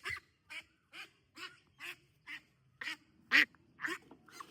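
A series of farm ducks quacking in a steady rhythm while being caught and weighed, about nine calls, one louder near the end, close by with light background noise.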